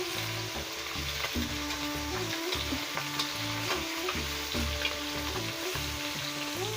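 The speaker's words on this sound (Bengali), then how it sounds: "মাছটাকে ভালো করে ভাজতে হবে।" Bata fish fries in a pan over a village cooking fire with a loud, continuous crackling sizzle, while a steady pulsing low drone repeats beneath it.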